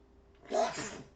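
A single sharp sneeze bursts out close by, loud and breathy, lasting under a second against a quiet background.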